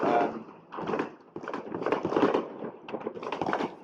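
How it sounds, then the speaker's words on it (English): Fireworks go off in bursts of crackling and popping, in several clusters of fairly loud, close explosions over a few seconds, without talking. "fireworks."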